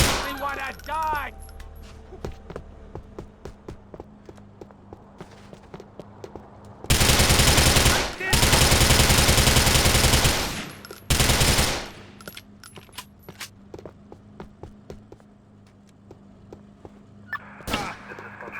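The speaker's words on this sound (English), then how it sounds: "We are shooting right forward." Machine gun fire in the Grand Theft Auto video game: a few scattered shots and clinks, then long, loud sustained bursts of automatic fire, followed by a quieter stretch of sporadic pops and one last burst near the end.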